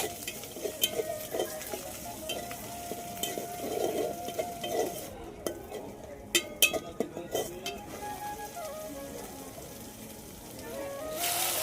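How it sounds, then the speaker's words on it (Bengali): Onion and garlic paste fries in white oil for a taro-stem dish while a utensil scrapes and taps the pan, giving a soft sizzle under clinks that come in a busier cluster midway, close and moderately quiet. "পেঁয়াজটা একটু লাল করে ভেজে তারপরে বাটা পেঁয়াজটা দিয়ে দিলাম, আর দিয়ে দিচ্ছি বাটা রসুন"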